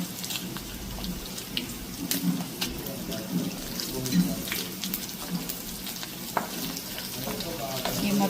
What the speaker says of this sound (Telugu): ఇవి మొత్తం మంచిగా ఫ్రై చేసుకోవాలి.